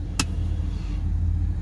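Car engine idling just after being started, a low steady hum with a brief sharp click near the start, quiet and alone.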